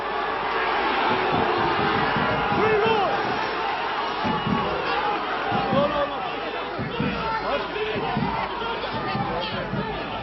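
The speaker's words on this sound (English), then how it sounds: "the crowd encouraging them on their way" Rugby crowd at a Connacht home match against Samoa, a sustained roar of cheering and shouting as the home side drives toward the try line, with a commentator talking over it.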